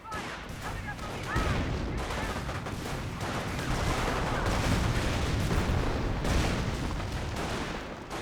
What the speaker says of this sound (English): Another incendiary grenade there.